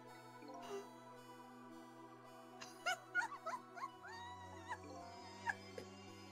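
A dog barks in the video game Ghost Trick: a cluster of short, sharp yelps and chirps over a steady hum of game music, with a few scattered yips afterward.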